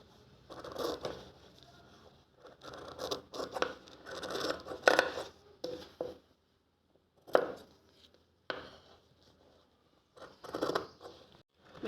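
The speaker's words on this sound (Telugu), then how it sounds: "ఎక్స్ట్రా ఉన్న క్లాత్ కట్ చేసుకుని" Scissors cutting through spare table cloth fabric, a series of rough crunching snips in uneven bursts with short pauses, close and clear, no talk.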